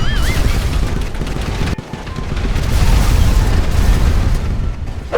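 A carpet bomb in modded GTA V: a loud, continuous roar of rumbling blasts and crackling booms, a barrage of explosions, with a brief dip before the rumble swells again.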